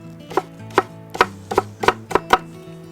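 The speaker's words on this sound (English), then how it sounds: "Onions, fairly small, like chop it really finely." Onions being chopped finely on a board, seven or eight crisp, close knife strikes at a moderate, slightly uneven pace, with no talk.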